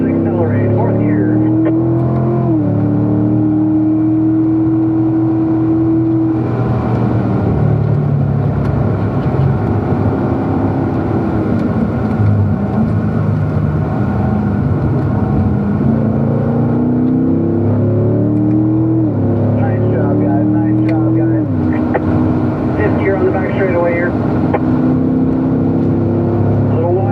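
A car accelerates around a curve at Spring Mountain race track, its engine note climbing, dipping at a gear shift into fourth, then climbing again, loud and steady throughout, with an instructor's voice talking over it.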